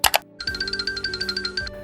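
A short electronic bell chime rings out alone, a bright clicking double hit followed by a quick run of repeated ringing tones that fade after about a second.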